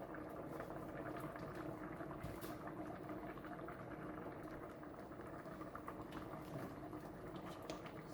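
Jamaican stew peas boiling in a pot, a steady close bubbling and popping that continues evenly throughout without pause.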